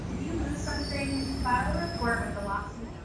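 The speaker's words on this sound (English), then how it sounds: "Train arriving. Please stand clear of the doors." An airport shuttle train rumbles and hums as it pulls in, with a faint high squeal of wheels and a voice announcing the train's arrival and telling passengers to stand clear of the doors.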